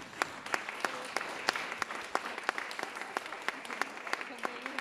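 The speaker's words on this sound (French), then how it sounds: "j'aimerais qu'on les applaudisse" An audience applauds two farmers at a gathering about trees and hedgerows, a brisk patter of many hands with sharper individual claps standing out, and a voice faintly beneath.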